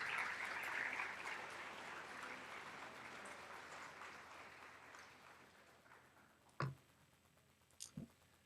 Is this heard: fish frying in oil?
no